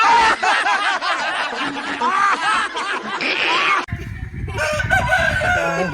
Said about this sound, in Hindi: बहुत ही खूबसूरत सा जो मुर्गा है,